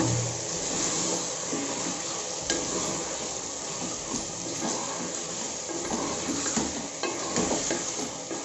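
Mutton for goat biryani sizzles loudly and continuously in a hot pan while a spoon stirs it, with occasional scraping and clinking against the metal.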